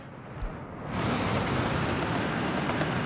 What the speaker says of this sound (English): There is one enormous goddamn bauxite train meeting an oil train